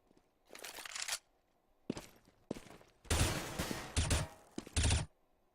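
Gunfire in the Counter-Strike map de_nuke during a competitive match: several loud, close bursts of rapid shots separated by short pauses, with a heavy sustained volley near the end.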